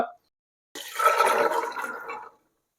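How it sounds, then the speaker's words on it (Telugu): Water pours over overnight-soaked chickpeas in a vessel in a single gushing burst lasting about a second and a half, loud and close, with a brief moment of a voice just before it. "శనగలు మునిగేదాకా మనము వాటర్ యాడ్ చేసుకుంటాము."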